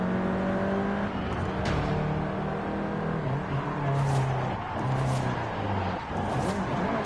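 A Volkswagen Golf R, seventh generation, in Forza Horizon 5 holds a steady engine drone with rising and falling revs. Gear changes sound close and fairly loud, with no talk over it.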